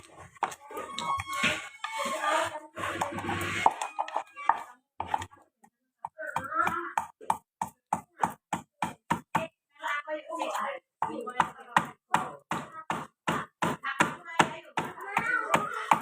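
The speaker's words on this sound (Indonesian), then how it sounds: "Kalau menurut aku guys, bumbu-bumbu itu lebih baik diulek, bukan di blender" Stone mortar and pestle grinding chilies and onion, heard as a rapid run of sharp, even pounding knocks close by, starting after a stretch of talking and carrying on alone with brief pauses.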